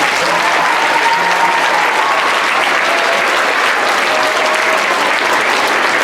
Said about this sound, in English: Big round of applause for Charles.